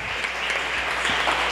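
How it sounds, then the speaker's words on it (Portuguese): A church congregation at a Baptist church claps steadily and loudly throughout, a dense continuous applause with no pauses. "Aplauda ao Senhor."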